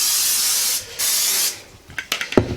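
Two long, steady hisses from a cooking spray can spraying an electric frying pan close by, followed by a few light clicks and clatters.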